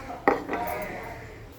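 A spoon clinks against a pot while stirring an eggplant and hilsa fish curry, one sharp metallic knock followed by a softer scrape over a quiet kitchen background.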